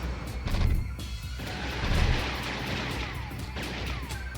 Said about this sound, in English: Ballistic automatic missiles!